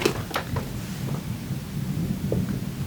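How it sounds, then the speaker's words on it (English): Distant thunder rumbles low and steady outdoors with faint rain and rustling, no voices, a soft continuous roll rather than a sharp crack. "Did you hear that thunder?"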